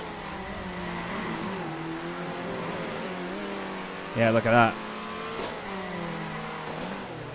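Race car engine in the Circuit Superstars video game droning steadily with shifting pitch, then a brief louder revving burst midway, while someone talks over it.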